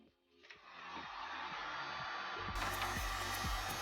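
Hair dryer blowing on freshly painted filler on an RC car body, switching on with a click and then a steady close whoosh that grows louder and harsher partway through.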